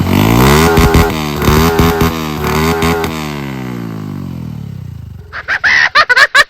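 A tuned motorcycle approaches and passes close by, its engine revving loud and rising then falling in pitch as it goes, followed by a few sharp, rapid high-pitched bursts near the end.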